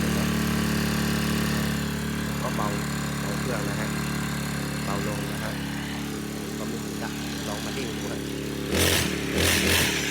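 A lawn mower engine that had been revving on its own runs after a throttle adjustment, droning steadily and loudly up close with a brief rise in revs near the end, while someone talks over it.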